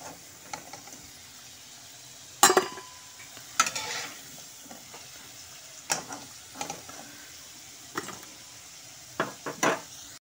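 Potatoes frying in a pan are stirred and lifted out, with soft sizzling under a string of scraping and clinking spatula strikes against the pan, close and moderately quiet.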